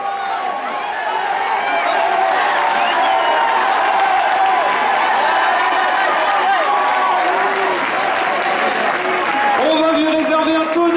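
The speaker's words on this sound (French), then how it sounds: "On va lui réserver un tonnerre d'applaudissements à Florian Carvalho, ainsi qu'à tous les coureurs de ce 5000 exceptionnel." Stadium crowd applauding and cheering the runners of an international men's 5000 m final at an athletics meeting in Carquefou, a dense, continuous wash of clapping that holds loud throughout, with a voice talking over it.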